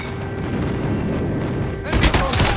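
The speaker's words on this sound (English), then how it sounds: "Now our strike is ready. Friendly airstrike incoming." A friendly airstrike in COD Mobile begins with a low, steady rumble and a faint tone, then a cluster of loud, close explosions bursts in near the end.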